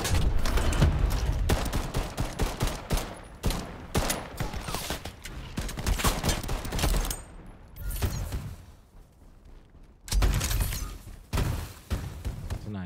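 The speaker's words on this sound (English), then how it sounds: "Shotgun." Video game shotgun blasts and other gunfire boom repeatedly in dense, loud bursts, with brief lulls and a short quiet gap before firing resumes, while a player talks over the shooting.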